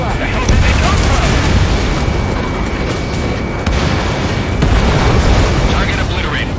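Loud, dense missile blasts and rumbling booms from an Ace Combat 7 air combat video game fill the scene continuously, with a voice speaking over the explosions.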